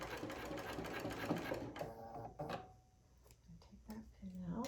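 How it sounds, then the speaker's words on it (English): Sewing machine running steady stitches through quilting fabric for a picture-window Dresden block, a fast mechanical whir that slows and stops partway, with faint handling noises after. "I'm going to go ahead and I'm going to start stitching"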